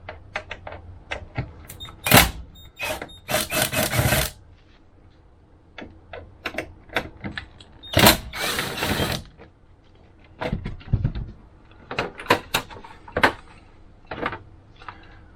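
Cover of a Progressive Industries surge protector panel being removed, a series of sharp plastic and metal clicks, snaps and rattles in irregular bursts, close and fairly loud with quiet gaps between.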